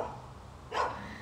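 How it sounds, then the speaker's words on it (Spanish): A single deep bark from a very large dog, one short loud burst over a quiet background hum. "Es grandísimo ese perro."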